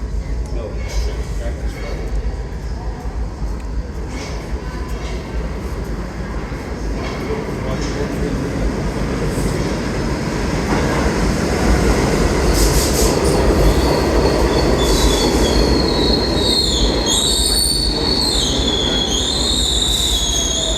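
An old New York City R46 subway train rumbles and clatters along the tracks, growing louder, with shrill metallic wheel squeals rising over the roar toward the end.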